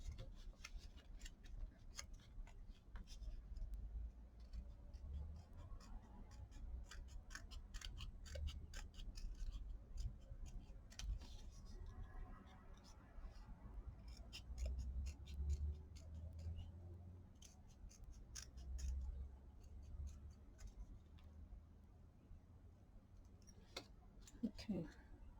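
Scissors cut out a recycled greeting card with faint repeated snips and small ticking clicks over a low background hum. The cutting is quiet and close throughout, with no clear talk.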